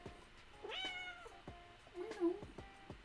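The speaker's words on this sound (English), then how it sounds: "You're purring loudly, though. Everyone can hear you purr." A house cat meows several times in short, close, rising calls, with a soft purr beneath, while a person talks softly to it.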